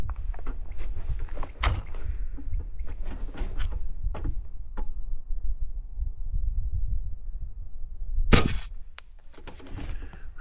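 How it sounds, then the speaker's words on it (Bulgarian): An Airmaks Krait MK2 X HP .25 caliber PCP air rifle fires one sharp, loud shot near the end, after scattered clicks and handling knocks over a low background rumble. "Втори изстрел"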